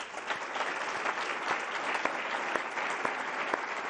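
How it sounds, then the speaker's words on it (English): An audience at the NATO summit 2022 applauds after a special address, producing a steady, fairly soft wash of many hands clapping throughout, with no speech over it. "Andriy, I would like to give you, with all the people in the audience, a hand of applause."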